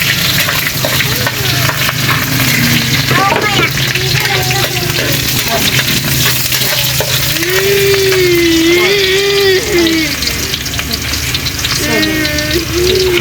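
Garlic and onion sautéing together in a pan, a loud steady sizzle with scraping and stirring clatter and brief faint voices behind it, in a home provincial kitchen.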